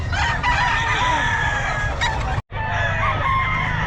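A gamefowl rooster at a poultry sale in Bocaue crows loudly and close by in a long, ringing call, with a second crow following a brief pause.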